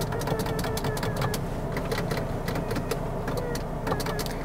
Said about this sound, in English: I think it's time for us to get this on the road.